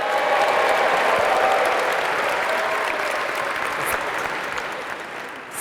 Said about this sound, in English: Oh, he wants a big cheer,